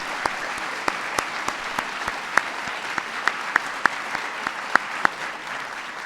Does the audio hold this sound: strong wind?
no